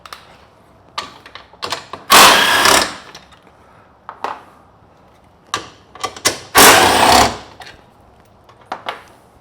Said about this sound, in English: we're just going to use the impact and get that off